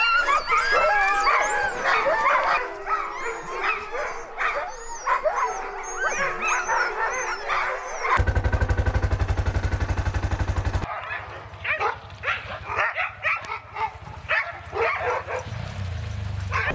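Arctic husky racing dogs bark, yip and whimper excitedly in an overlapping chorus, loud and close, with a deep rumbling engine-like drone breaking in partway through before the barking returns.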